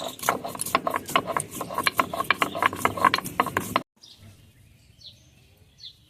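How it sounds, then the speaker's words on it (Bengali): An electric spice grinder grinds cinnamon, cardamom, cloves and black pepper into garam masala, giving a loud, rattling, whirring grind for about four seconds before it stops abruptly into near quiet. "এখানে আমি ডালচিনি এলাচ লবঙ্গ আর গোলমরিচ নিয়ে নিয়েছি এখন এগুলো বেটে নেব"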